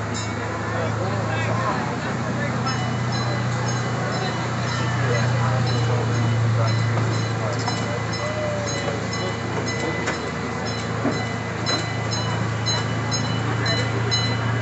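An amusement park train at Six Flags Great Escape in Queensbury, New York rumbles along steadily with a constant low drone and faint rhythmic clacking, while people chatter nearby throughout.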